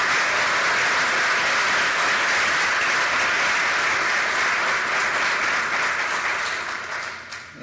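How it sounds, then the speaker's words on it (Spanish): Sustained, dense applause from a large conference audience honoring a speaker fills the space at steady loudness, then tapers off over the last second. "quisiera pedirles a todos un aplauso para el doctor Feige Rodríguez"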